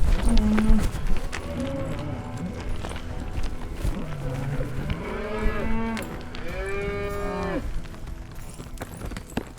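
Several cows moo loudly, long drawn-out calls overlapping one another, with shuffling and low barn noise around them.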